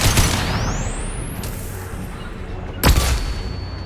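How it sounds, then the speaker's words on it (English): A flashbang grenade goes off in Mass Effect 2 during combat, a sharp concussive bang cutting through a dense layer of gunfire and a rising high whine, followed by another loud blast near the end. "Watch out, flashbang!"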